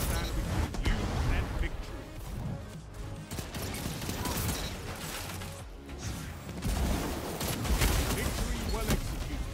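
Video game combat with dense, loud gunfire and a grenade blast, sustained bursts of shots and impacts throughout, with a voice talking over the action.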